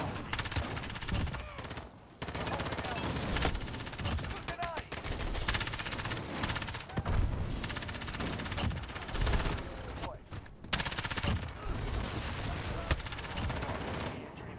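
An MP7 submachine gun in a Call of Duty multiplayer match fires in long rapid automatic bursts, loud and close, broken by brief pauses, with other gunfire and game effects mixed in.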